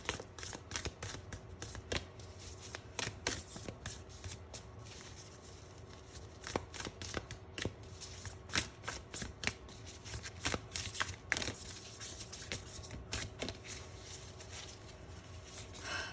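Tarot cards shuffled by hand nearby, a steady run of crisp riffling and flicking with frequent sharp snaps, quiet and continuous with no talk.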